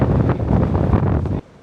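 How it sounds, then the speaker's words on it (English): Strong wind gusts of about 120 km/h on a waterfront walk buffet the microphone in a loud, close rumbling roar, then cut off abruptly near the end. "what I might actually do is cut in a little bit of the actual wind audio just to give you some idea"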